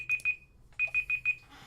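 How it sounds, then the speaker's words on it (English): Timer alarm going off in a studio, two short bursts of electronic beeping, then a pause and four more rapid pulses, clear and fairly close with no talk over it. "I guess my timer's up"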